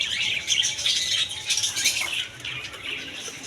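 Caged lovebirds in a bird shop flutter their wings, quick soft flapping bursts with faint chirps behind, fairly close and continuing for a few seconds.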